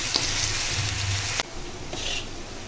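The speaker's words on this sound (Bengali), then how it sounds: "পেঁয়াজ কুচো লঙ্কা কুচো আর রসুন থেতো সব একসঙ্গে দিয়ে দিলাম দিয়ে এটা ভেজে নেবো" Chopped onion, chili and crushed garlic sizzle and crackle in hot oil in a pan, a close steady fry with a brief stirring scrape midway.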